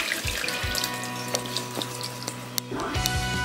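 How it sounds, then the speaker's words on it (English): Sauerbraten sauce and vegetables poured into a sieve in a home kitchen: a close, splashing liquid flow with a few soft knocks and drips, then a renewed pour near the end. "So I put all this in the sieve."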